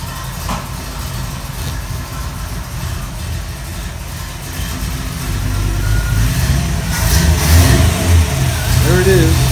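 A car engine runs nearby, holding a steady low idle before the revs rise and the motor grows louder in the last few seconds.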